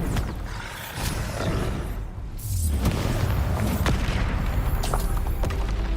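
A Bombarda spell in the video game Hogwarts Legacy erupts as a loud, rumbling explosion with a low boom that swells midway and stays dense, crackling and sustained.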